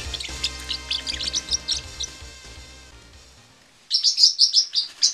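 An upset pet bird lets out sharp, high chirps in quick bursts, stops for a short quiet stretch, then resumes with a louder, denser run of shrill calls close by.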